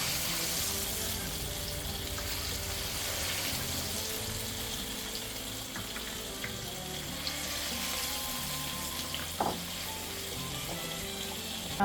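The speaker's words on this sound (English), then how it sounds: "now that our oil is hot enough, we are going to fry our plantain" Sliced plantain frying in hot oil, a steady, dense sizzle that carries on for the whole stretch without a break, close and moderately loud, with a few faint clicks near the end and no voices.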